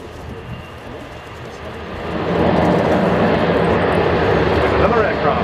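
A German Navy P-3 Orion patrol aircraft flies past at the RIAT 2014 air show, its turboprop engine roar steady and loud, swelling over the last half while a person talks underneath.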